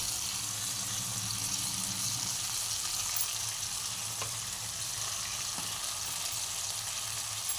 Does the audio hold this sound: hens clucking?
no